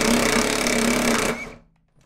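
An Ingco 20V cordless impact wrench, rated 1,350 Nm, runs in reverse to loosen a crusty nut on a test rig, giving a loud continuous buzzing hammer for about a second and a half before spinning down and stopping.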